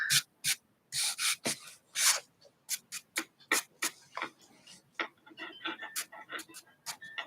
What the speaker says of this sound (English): And then you can just rub it in and get more colour in there.